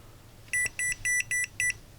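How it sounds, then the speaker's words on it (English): An EMF01 electromagnetic radiation detector beeps five times in quick succession, shrill high-pitched tones close by against a quiet room. "Now it's beeping because"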